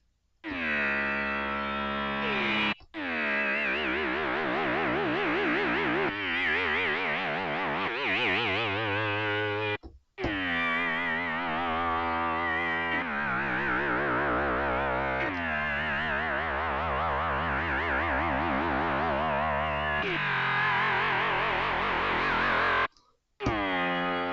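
A buzzy synthesizer tone from Arturia Pigments 6 warbles and sweeps as an LFO rapidly wobbles its filter, played in long phrases separated by brief silences, loud and bright.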